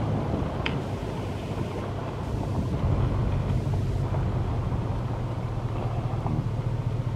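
Strong wind buffets the microphone on a Colorado hillside during a hike, a loud continuous low rumble with gusts that swell and ease, with no talking.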